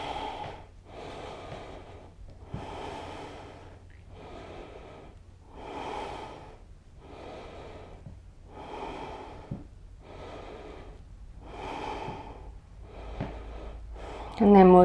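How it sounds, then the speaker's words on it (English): Deep, rhythmic breaths while holding a yoga pose during a shoulder strength and mobility session, about ten slow, even inhales and exhales, close and breathy, with no talking over them. "Breathe here."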